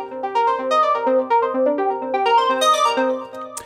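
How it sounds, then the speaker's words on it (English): Synth arpeggio programmed in Bitwig Studio, its notes carrying slightly varied MIDI velocity so some ring louder than others; a quick, even run of bright plucked tones, close and clean, alone for a few seconds. "we have this arpeggio with a slight variance here in the velocity on the different notes, and it sounds like this"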